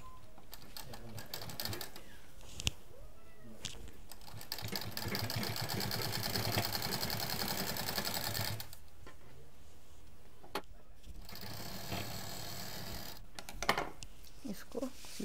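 A sewing machine stitches piping onto a patchwork shopping bag, running in steady rapid bursts with short pauses between them, recorded fairly quietly.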